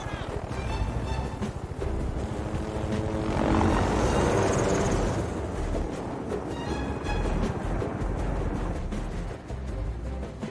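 A helicopter flies through a scene in the 2003 heist film The Italian Job, its steady, loud rotor and engine roar swelling toward the middle before settling into a continuous drone.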